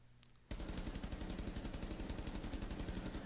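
Sustained automatic gunfire from a weapon fitted with a vertical grip in Rainbow Six Siege, a loud, rapid, steady stream of shots that cuts in abruptly after a short quiet lead-in and runs without pause.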